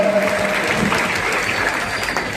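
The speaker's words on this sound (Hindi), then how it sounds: "ताली बजा करके अपने नेताओं का आप स्वागत करें" A crowd at a Sonauli Nagar Panchayat event in Maharajganj, celebrating a newly elected chairman, claps continuously to welcome its leaders. The applause is dense, loud and close, with a faint tone drifting through it.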